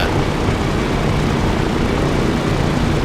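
A loud, steady propeller aircraft engine drones continuously in the ARMA III Battle Royale mod, a dense broadband roar with no voices.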